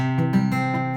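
A single strummed guitar chord rings out with a dull, choked edge, a few strings sounding muted and buzzy while the rest sustain briefly.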